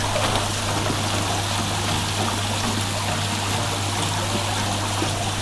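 Water for koi fish in a new pond is poured and mixed in a steady, loud, continuous splashing trickle close by, unbroken for the whole stretch with a low hum beneath.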